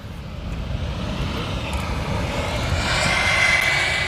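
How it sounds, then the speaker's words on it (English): Jet engines of an airliner rolling out after touchdown at Amsterdam Schiphol Airport, a steady, loud broadband roar that swells slightly toward the end, heard at a distance with no talk. "we can hear the engines rolling right over there"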